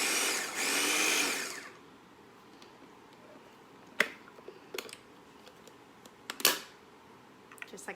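Food processor pulsing about three heads of fresh garlic: one loud whirring burst of under two seconds, then near-quiet with a few sharp clicks and knocks.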